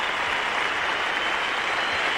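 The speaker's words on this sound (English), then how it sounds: "And the whole crowd rises now to Greg Chappell" A cricket crowd at a 1984 Australia v Pakistan Test applauds Greg Chappell as it rises to him, a steady, dense wash of clapping and cheering that fills the whole moment without a break.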